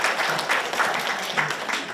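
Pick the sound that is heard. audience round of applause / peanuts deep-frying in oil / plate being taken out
audience round of applause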